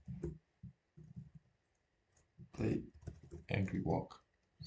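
Quick bursts of clicking keystrokes on a computer keyboard come while scripting in the Godot 4 game engine, light and close, alternating with a voice talking over and between them.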